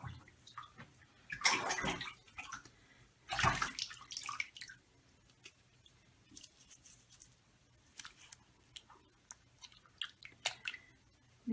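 Bathwater sloshing and splashing as someone settles into a filled tub, with two louder bursts of swishing water early on followed by quieter intermittent drips and small splashes, no talking.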